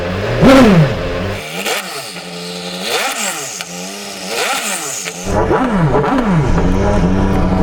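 A Bentley Speed 8 Le Mans race car engine revs repeatedly, its exhaust rising and falling in loud, rumbling swells with a burbling crackle between pulls, close up.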